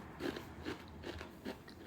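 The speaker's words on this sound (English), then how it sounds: "If you don't like smacking and chewing" Close-up crunching and chewing of Doritos tortilla chips, four or five soft crisp bites in a steady rhythm with moist mouth sounds between them, quiet and without talk.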